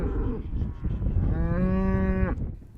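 Cattle on a working cattle ranch low nearby, a brief moo followed by a longer, loud, sustained bellow that cuts off abruptly.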